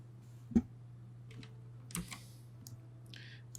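A computer keyboard being typed on in a quiet room gives a few sparse, soft key clicks and short bursts of clatter, faint and close, over a low steady hum.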